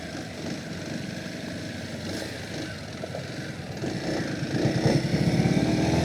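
A Kawasaki KLX 230 SM trail motorcycle being ridden on a wet, muddy road in Depok, its single-cylinder engine buzzing steadily and rising louder toward the end.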